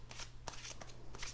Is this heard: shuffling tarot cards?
yes